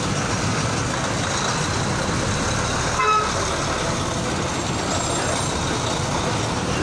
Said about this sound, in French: Regardez la circulation, regardez l'embouteillage.